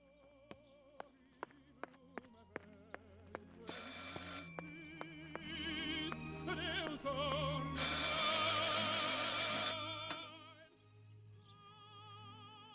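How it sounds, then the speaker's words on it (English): In the Martha Is Dead video game, a telephone rings amid steady ticking and then swelling, dense in-game ambience and music that grows loud before easing off. "I should pick up the phone but remain silent."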